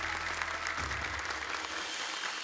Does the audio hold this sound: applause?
yes